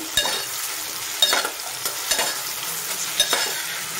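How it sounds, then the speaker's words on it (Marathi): Eggplant and potatoes fry in hot tempering oil with a constant crackling sizzle, broken by several sharp stirring scrapes and clinks of the spoon in the pan, close and without speech. "त्यामध्ये मी हे वांगी आणि बटाटे टाकून घेते, कारण मला ते थोडेसे फोडणीवर भाजून घ्यायचे"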